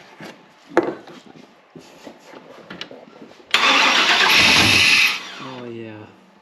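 Chevy 350 engine cranks over while being tested for spark, a loud steady grinding churn lasting about a second and a half before stopping, preceded by quiet shuffling and brief talk nearby, followed by a short tonal ring.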